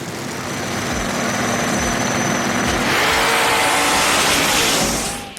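A Holden Monaro and a twin turbo car launch side by side in a drag race, their engines roaring loud and close, rising in pitch as they accelerate and then fading away near the end.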